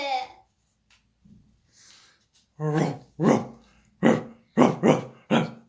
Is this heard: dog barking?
yes